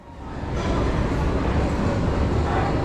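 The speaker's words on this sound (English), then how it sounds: "make our way down to the subway from Queens to Manhattan" New York subway train running from Queens to Manhattan, a steady loud rumble and roar of the moving car close around the listener, rising in the first half second and then holding constant with no voices.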